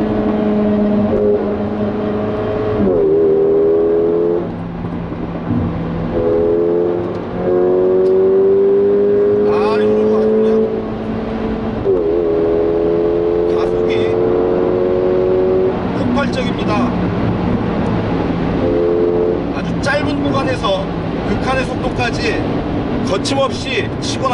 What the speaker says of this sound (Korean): 가속 페달을 쭉 밟았다가 놓은 뒤에